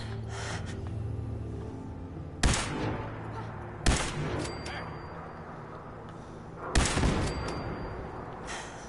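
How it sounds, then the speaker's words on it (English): Three sharp, loud gunshots ring out a couple of seconds apart in a video game, punching through a steady background of ambient game noise. "I will just go ahead and shoot that guy"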